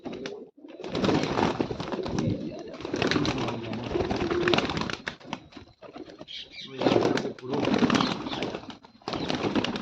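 A pigeon coos in repeated throaty bursts close up, with wing flapping and rustling between calls.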